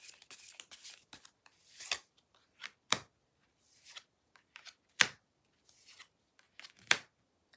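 Tarot cards are shuffled and drawn in a quiet room: soft riffling, sliding and sharp card snaps at irregular intervals, close up, with no talking.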